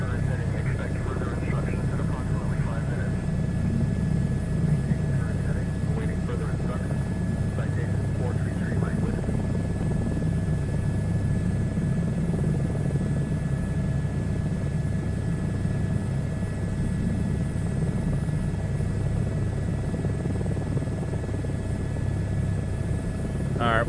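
A helicopter flies in a VR flight simulator game, a constant rotor and engine drone throughout, with a person talking over it at intervals.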